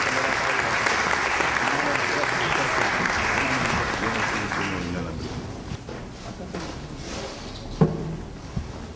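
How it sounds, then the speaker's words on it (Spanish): An audience applauds at a children's council recognition ceremony, dense clapping that fades after about five seconds into scattered claps and room murmur, with a voice over the later part. "El aplauso para ellos."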